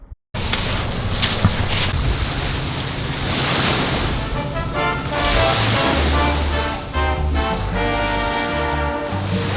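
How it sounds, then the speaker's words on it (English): Loud surf and wind on the ocean shore in Baja, Mexico, with the engine drone of boats leaving a marina rising and fading through the roar. "There's boat after boat coming out of the marina right now."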